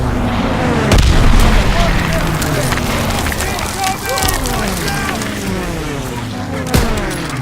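Artillery explosions in Call of Duty WW2 during the Rhine mission, heavy booms and rumbling impacts under shouting soldiers and battle noise, with one strong thud early and another near the end.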